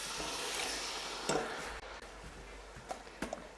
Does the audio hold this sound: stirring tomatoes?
yes